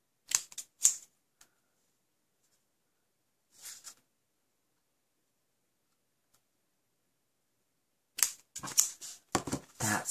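Paper being trimmed for a Stampin' Up treasure box, heard as a few quick crisp cutting strokes with long quiet gaps in between, close and soft.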